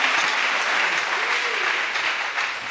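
A church congregation applauds and cheers for Jesus during a pastor's sermon, a dense, steady wash of clapping that stays loud and continuous throughout, with no clear speech over it.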